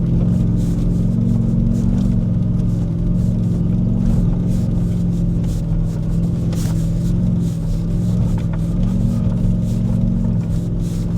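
A Goosetuned Ford Raptor R climbs a technical desert trail in first gear, its engine holding a steady, loud, close rumble throughout, with no talking.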